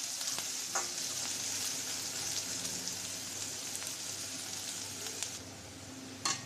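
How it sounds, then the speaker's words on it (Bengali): Chopped onion, chili and garlic frying in a pan give off a steady, close sizzle with a few faint clinks of stirring. Nobody speaks over it. "পেঁয়াজ মরিচ রসুনটা দেখুন ভাজা হয়ে গেছে।"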